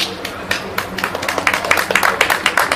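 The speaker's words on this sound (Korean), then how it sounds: "박수도 쳐주셔서 감사합니다" A small crowd at an outdoor press conference in Gwanghwamun, Seoul, demanding hand-counted ballots, claps steadily for about three seconds, with dense, uneven hand claps at close range.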